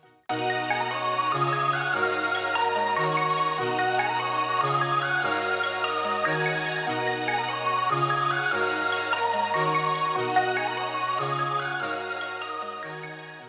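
Layered synth lead melody for a beat, bright stacked tones playing a looping phrase over deep bass notes that step in a steady rhythm, loud and continuous throughout.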